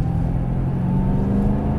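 A car engine holds a steady, loud rumble under full throttle while drifting, droning continuously with no break and no voices.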